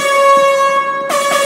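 A loud, steady air horn blast at a wrestling event, held continuously with a brief dip before resuming, sounding close and piercing with no talk over it.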